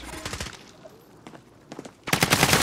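Rapid bursts of automatic gunfire during a competitive video game tournament match, a sharp volley at the start, scattered shots in the middle and a loud sustained spray at the end.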